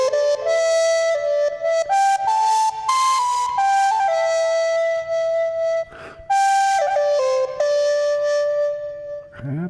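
A sampled Papago Native American flute with reverb plays a breathy melodic line of held and stepping notes, clear and fairly loud, with short gaps between phrases and a reverberant tail.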